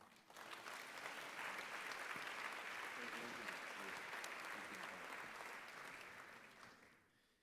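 A conference audience applauds a keynote speaker at an obesity conference, a steady, dense clapping that swells quickly, holds evenly for several seconds, then fades out.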